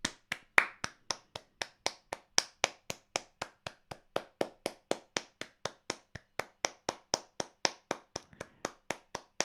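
One person's hands clap steadily and quickly, about four sharp claps per second, close and fairly quiet, continuing for the whole stretch.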